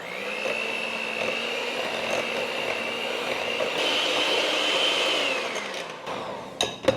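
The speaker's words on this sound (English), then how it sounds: "I'm mixing the cheese, the egg yolks, the cream, until it gets a little bit lighter in color and everything's well incorporated" An electric mixer whirs steadily as it beats cheese, egg yolks and cream together for an Italian Easter pizza rustica filling, then winds down near the end with a few clinks.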